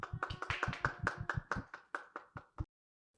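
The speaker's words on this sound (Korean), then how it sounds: "초대할 때 큰 박수로 환영해 주시기 바랍니다." Welcoming applause from a small gathering: about a dozen sharp, close claps in a quick irregular run that stops abruptly after under three seconds.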